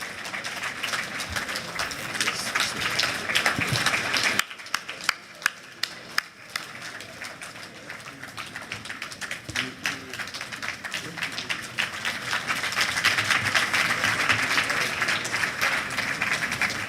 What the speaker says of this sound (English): Please, let's applaud this moment.